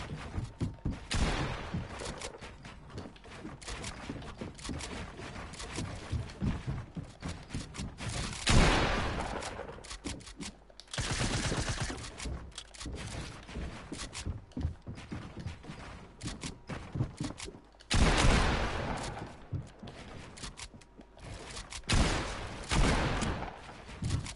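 Gunfire from the video game Fortnite crackles in bursts, with rapid volleys and a few louder booms spread through a busy, continuous game soundscape.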